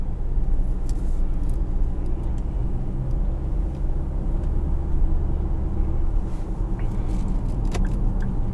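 A 2014 Infiniti QX60 with a 3.5-liter V6 and CVT drives along, its low engine and road rumble steady and close, with faint rattles and small clicks inside the cabin and no talking.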